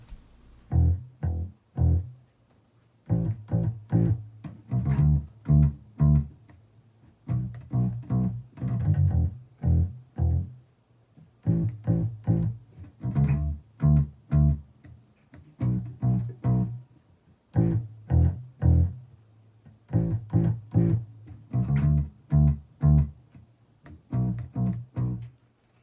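An electric bass plays a song's original bass line alone, a rhythmic run of plucked low notes in short phrases separated by brief pauses, steady and clear.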